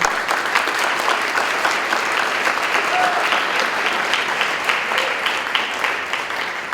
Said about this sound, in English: And let's just give them a round of applause because they're amazing.